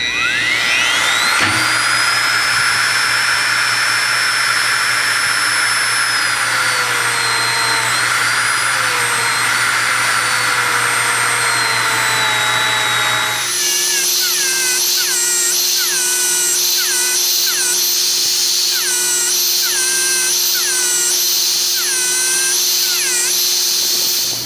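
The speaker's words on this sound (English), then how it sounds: "I'm going to hold the Dremel tool here on an angle with a coarsely dressed wheel and just grind away until I get the bevel in there" A Dremel rotary tool with a coarsely dressed grinding wheel grinds a bevel on a Deckel clone cutter, a loud steady high whine that shifts pitch and then settles into a pulsing, wavering grind as the wheel bears on the metal.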